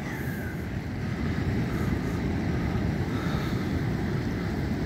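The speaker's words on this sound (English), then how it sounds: "just listen to the sound of the sea." Sea surf at Stafnes on the Icelandic coast rolls in as a constant, dense roar of breaking waves, mixed with gusty wind buffeting the microphone, with no voices.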